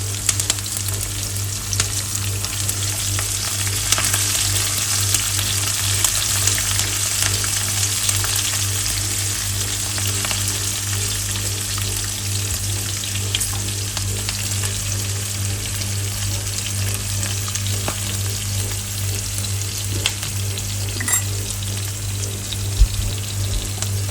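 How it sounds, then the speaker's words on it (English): Onions and green chillies sauté in a skillet, a loud, steady crackling sizzle holding constant throughout with a low hum beneath and no talking. "slide in some onions and green chillies. Saute for 2 minutes until the onions turn golden brown."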